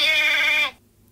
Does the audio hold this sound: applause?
no